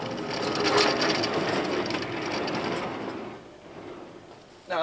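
Vintage Sears D49 chainsaw, mounted on a chainsaw mill and leaking fuel, cranked over by hand: a rough mechanical rattling burst that fades toward the end, followed by a sharp sound at the close.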